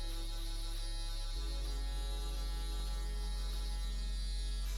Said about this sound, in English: using the corner of your foil shaver, get behind the ear